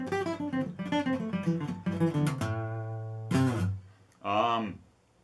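Guitar plays a pentatonic scale in groups of three running backwards, descending from the second string in quick plucked clusters, followed by a sustained ringing note and a couple of separate strummed bursts.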